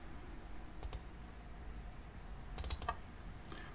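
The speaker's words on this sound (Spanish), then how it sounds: "haciendo doble clic voy a ir añadiendo estas paradas" A computer mouse double-clicks while gradient stops are added in Inkscape, giving faint paired clicks, one pair early on and a quicker cluster later, over quiet room hiss.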